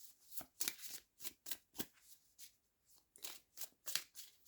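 Mini shamanic oracle cards are shuffled close by, giving quick bursts of crisp riffling and snapping in an uneven rhythm with short pauses between them.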